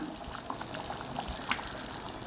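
Small paneer cubes drop into a simmering paneer mint gravy over a medium flame, giving soft close splashes and a low bubbling and liquid shuffle, quiet and without voices.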